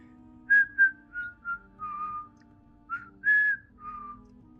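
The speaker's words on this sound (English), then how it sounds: "Start whistling." A person whistles a short tune nearby, about eight clear, steady notes of varying pitch with brief pauses between them, alone over a faint background hum.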